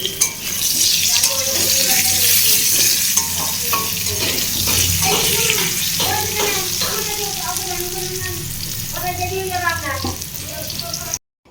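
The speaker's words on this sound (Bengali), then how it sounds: "ডিমের তরকারির আলুটা ভাজতে বসিয়ে দিয়েছিলাম" Potato pieces frying in hot oil in a pan for an egg curry, giving a loud, continuous sizzle with stirring and scraping noises throughout that stops abruptly at the end.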